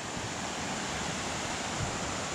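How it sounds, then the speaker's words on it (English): A river rushes continuously in the wilderness, a steady broadband wash of flowing water, moderately close and unbroken, with no voices. "right now you can hear the river"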